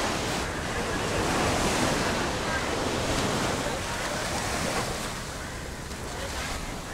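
Steady surf rolls onto a Sri Lanka beach, a loud, continuous wash of breaking waves with wind buffeting the microphone, no voices.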